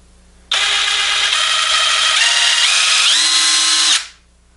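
A DeWraf 20V cordless 1/2-inch three-speed impact gun runs loud and close in one continuous burst of about three and a half seconds, its whine shifting upward in steps before it cuts off.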